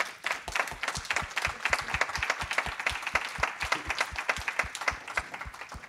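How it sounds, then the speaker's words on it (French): Audience at a French-language conference applauds the two speakers, steady clapping from a crowd with distinct near claps in an even rhythm throughout, no talking over it. "Je pense qu'on peut les applaudir."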